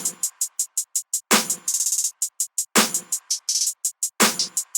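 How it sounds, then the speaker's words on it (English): Programmed drum pattern of a basic trap beat: crisp clap hits land on a steady grid with faster snare-like rolls and flams between, alongside heavier low thumps on the main beats, dry and loud with no voices. "which is like the basic clap pattern"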